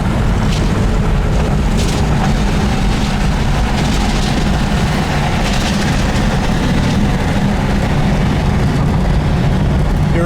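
Steady, loud low rumble of wind buffeting and howling around a 1970 Oldsmobile 442 on a windy day, a constant roar with no breaks and no voices.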